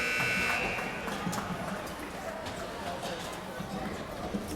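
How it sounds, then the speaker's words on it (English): Final buzzer at a girls varsity high school ice hockey game, a loud buzzing tone at the very start that fades into crowd noise and rink chatter, with a commentator talking over it. "There's the final buzzer."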